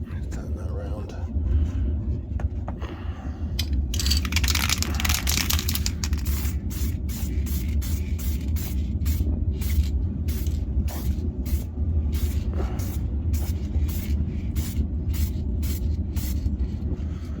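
A spray paint can hisses onto a car panel in a long continuous burst, then in a run of short regular spurts, close and steady, while a voice talks quietly in the background.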